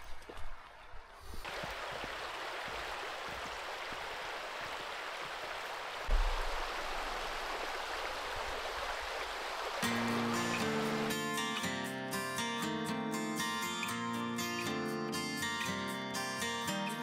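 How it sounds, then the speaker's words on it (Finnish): A shallow river runs with little water in Hossa National Park, Finland, making a steady broadband rush of flowing water. Music enters partway through and takes over toward the end. "Kivaan näköinen joki, mutta on kyllä vähän vettä."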